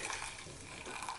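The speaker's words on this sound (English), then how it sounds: "I'll just add some cold water" Cold water poured into a spray bottle, a steady broadband splashing rush of filling liquid running continuously and close up, with no voices.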